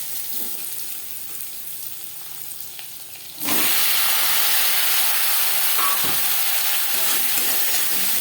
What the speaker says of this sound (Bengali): দশ 15 সেকেন্ড জিরে ভেজে নেওয়ার পর দিয়ে দেব টুকরো করে কেটে রাখা আলু